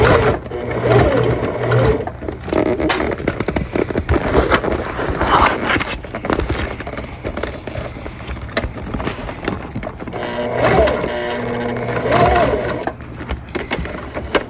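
A sewing machine stitches a bag seam toward the side gusset, running in a steady, loud mechanical whir with brief pauses and shifts in speed.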